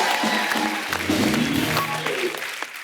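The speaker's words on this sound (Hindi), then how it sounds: "जोरदार तालियां होनी चाहिए हमारे दोनों मेहमानों के लिए।" A studio audience on a Hindi comedy show claps for two guests, a dense continuous burst of applause that stays loud throughout and tapers slightly at the end.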